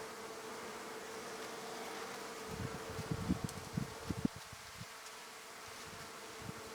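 Honey bees buzzing in an opened hive during a March inspection, a steady close hum with individual bees droning past the microphone in brief louder swells.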